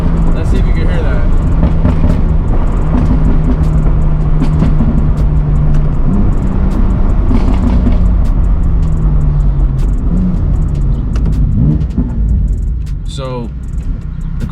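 A BMW M4 with a titanium exhaust drives along in Sport Plus mode, its loud, low engine drone steady and close from inside the car, with some rising and falling revs and a voice now and then.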